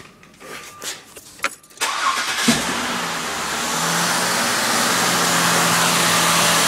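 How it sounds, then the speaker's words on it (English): A car engine is cranked and catches during an alternator check, a short starter whir followed by the engine firing and settling into a steady, loud idle. "Now I'm going to go start the vehicle."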